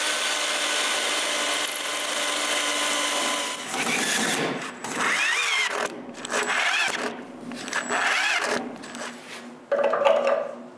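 A power driver whirs in bursts as screws bite into wood while assembling a wooden bandsaw frame, with brief pauses and rubbing handling noises between runs, fairly close.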